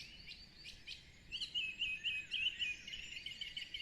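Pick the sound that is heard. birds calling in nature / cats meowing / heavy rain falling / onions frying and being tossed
birds calling in nature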